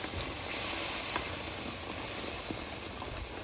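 Okra hits a hot pan of mustard-spiced oil and sizzles in a steady, dense hiss close by, with no voices over it.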